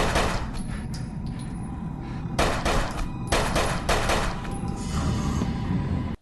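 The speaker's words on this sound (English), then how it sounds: "the lawyer promptly fires the gun" Gunshots from a horror film scene in which a lawyer fires a gun at a djinn, a loud burst of several sharp cracks and booming blasts in close succession over a dense cinematic soundtrack.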